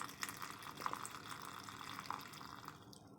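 Brewed tea is poured in a thin, quiet stream onto ingredients in a kitchen, with soft trickling and a few faint drips heard up close.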